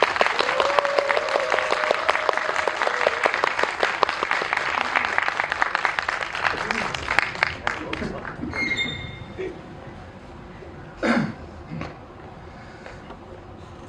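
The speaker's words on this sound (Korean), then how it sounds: "큰 박수로 맞이하겠습니다." Loud applause welcoming two film directors at a movie screening talk, heavy clapping that thins and fades after several seconds, leaving scattered claps, handling noise and a short voice.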